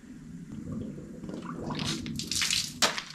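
Water trickles and splashes into the radiator of a 1960 John Deere 1010 diesel tractor. The gurgling fill grows louder and more hissing toward the end.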